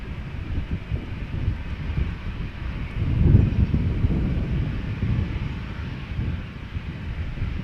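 KLM jet PH-BXV, a 17-year-old airliner first flown in February 2007, departing Amsterdam Schiphol on its flight to Warsaw: a steady broad roar mixed with wind buffeting, swelling louder around the middle and holding through the end.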